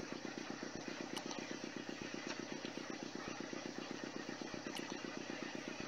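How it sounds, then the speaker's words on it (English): A motor in the video game Broken Sword 2 splutters into life and keeps running, a fast regular chugging pulse with faint clicks on top, even and moderately quiet throughout, with no talk. "The motor spluttered into life."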